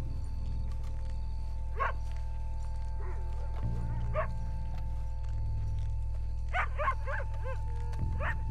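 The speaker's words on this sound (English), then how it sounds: "There's a dog barking." Dog barking in the video game Red Dead Redemption 2, a few scattered barks at a moderate distance over a steady low background drone.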